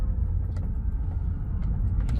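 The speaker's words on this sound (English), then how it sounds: "You can definitely hear that like kind of battery whine, which is really cool." A 2010 Tesla Roadster Sport driving, its electric drivetrain giving a faint whine under steady low road rumble and tire noise, continuous and close, with no talking.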